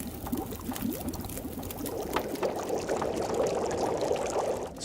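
Water boils over a campfire in The Long Dark, a steady rushing, bubbling churn that holds at an even, moderate level from start to end.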